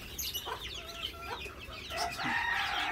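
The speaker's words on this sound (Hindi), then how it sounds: "इसको मुर्गी को निकालो।" Clucking and crowing from birds in an aviary setup, with pheasants among them: overlapping close calls and squawks that grow denser and louder near the end, and no voices.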